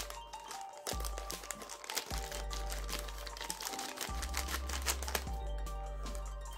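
Scissors cut open a plastic-wrapped parcel holding a Kastking Spartacus Plus baitcasting fishing reel, producing crinkling, snipping and rustling packaging noises in close, irregular bursts without speech.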